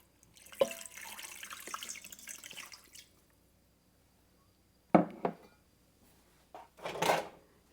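Water running into a cooking pot from a tap, a short trickling pour followed after a pause by a couple of brief splashes and clatters, fairly close and quiet, with no talk.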